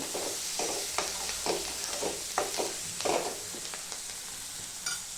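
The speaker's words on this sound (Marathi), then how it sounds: "कोथिंबीर ते पण तेलामध्ये चांगली फ्राय करून घेते" Fresh coriander leaves frying in hot oil in a pan after a spice powder mix, for a Marathi val bean pod dish: a close, steady sizzle broken by repeated stirring scrapes and soft knocks, no voices.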